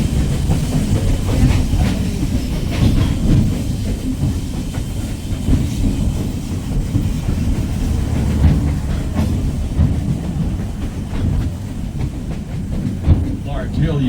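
A tourist train rolls along the tracks near Tillamook, giving a steady low rumble and rhythmic clatter throughout, close and fairly loud, with a guide's voice narrating over it.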